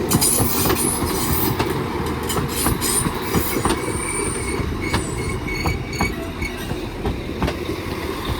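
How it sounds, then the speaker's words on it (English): A double Class 195 diesel multiple unit bound for Chester pulls into Earlestown station, rumbling in close with rhythmic clickety-clack over the rail joints and high wheel squeals as it slows. "train now arriving in is a double 195 going to Chester"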